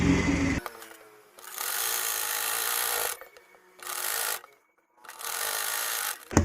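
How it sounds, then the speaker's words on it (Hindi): A sewing machine stitches along the edge of a fabric strip on a simple sleeveless top, running in three loud sustained bursts with brief pauses between them, alone and without talk. "बिल्कुल इसके किनारे किनारे सिलाई लगा लेनी है"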